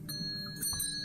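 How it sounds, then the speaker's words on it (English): A doorbell rings in a PC detective game, a short tonal chime with sustained ringing partials lasting about a second over a low room hum. "Ring the doorbell."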